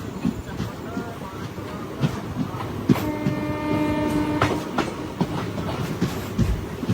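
The Falaknuma Express passes on the line in India, giving a steady rumble with clickety-clack wheel beats and a long two-tone horn blast in the middle, fairly near, with no talking.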